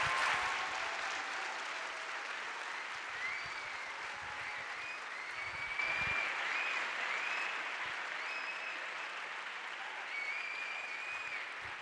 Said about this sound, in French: Je vous laisse prendre les applaudissements, Thomas Braille.